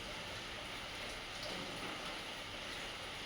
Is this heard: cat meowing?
no